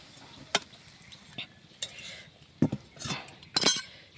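Egg and cabbage fry is tipped and scraped out of a pan, giving a series of sharp metallic clinks and scrapes spaced unevenly and close by.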